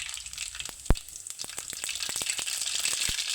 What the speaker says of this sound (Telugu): కడాయి పెట్టి అందులో కావలసినంత ఆయిల్ వేయాలి. ఆయిల్ అయితే వేడయింది. ఇప్పుడు జీలకర్ర,